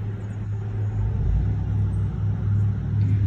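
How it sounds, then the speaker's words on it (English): Steady rumble of traffic from a busy road close by runs throughout as a continuous low drone, with no voices over it. "Got a busy road, like right there. So that's what all this noise is."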